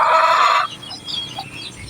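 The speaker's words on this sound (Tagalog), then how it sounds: "Ang ingay ng mga manok ngayon." Chickens in a rural yard in the Philippines, a loud burst of clucking and squawking up close that cuts off abruptly, leaving faint bird calls in the quiet.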